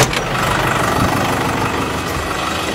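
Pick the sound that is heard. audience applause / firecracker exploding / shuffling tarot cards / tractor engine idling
tractor engine idling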